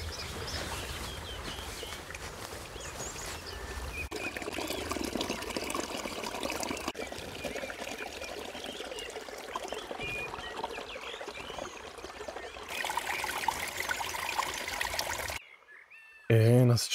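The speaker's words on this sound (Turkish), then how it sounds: "Çok küçük bir su akıyor Sezen." A small stream of water trickles steadily through a forest campsite, a continuous close, soft wash with faint birdsong, cutting off near the end.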